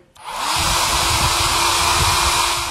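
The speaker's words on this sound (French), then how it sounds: "On va réactiver cette colle à la chaleur avec l'aide d'un sèche-cheveux traditionnel." A traditional hair dryer switches on and blows steadily, heating the glue on an adhesive nail art sticker: a loud, close, even whoosh of air over a low motor rumble that holds constant for several seconds.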